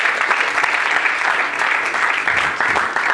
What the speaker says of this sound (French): Aplauz za Gospoda.